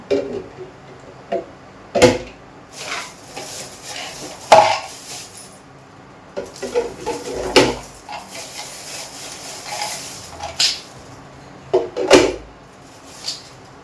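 Newly unpacked utensils and four spoons handled at close range: a series of sharp clatters, knocks and scraping clinks at irregular intervals, with a few louder bangs and quieter rubbing in between.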